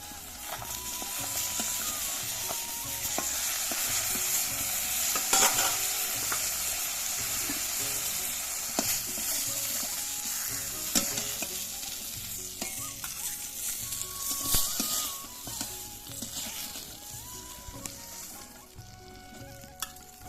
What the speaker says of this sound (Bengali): এরপর আমি ভাজবো মাছ